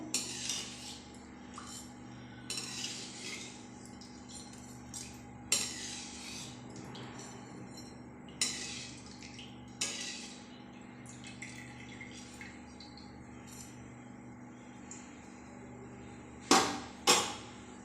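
Fried rice-flour sev snacks go into a metal strainer over an oily wok, giving scattered sharp metallic clinks and scrapes at irregular intervals over a quiet background hum.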